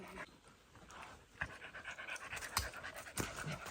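A dog pants steadily and fairly close while climbing a boggy hiking trail, quick rhythmic breaths running throughout with a few sharper bumps and scuffs along the way.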